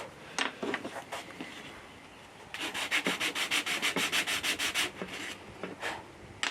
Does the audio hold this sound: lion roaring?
no